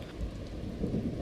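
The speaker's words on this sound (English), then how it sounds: "Let's get out of this rain." Rain and rolling thunder in the Fallout video game at Sanctuary Hills, a steady hiss of rainfall with a low rumble swelling near the end, heard alone without talk.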